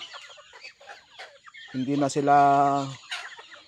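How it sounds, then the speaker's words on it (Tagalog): Backyard chickens kept in the provinces, with ducks close by, give a loud, close burst of clucking and calls that runs for about a second, and people speak in the quieter moments before and after it. "lugar kung saan tayo nag-aalaga ng mga alagang manok"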